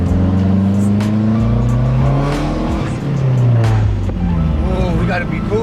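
A straight-piped Mazdaspeed 6 accelerating hard onto a freeway, loud raspy exhaust rising through the revs with gear-change dips, recorded from inside the car with a voice briefly talking over it.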